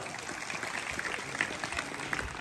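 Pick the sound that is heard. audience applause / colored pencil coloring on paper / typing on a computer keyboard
audience applause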